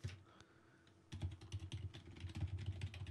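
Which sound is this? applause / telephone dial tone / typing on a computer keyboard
typing on a computer keyboard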